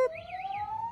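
A police patrol car siren wails close and loud at a street carnival, a steady rising-and-falling electronic tone with no talk over it.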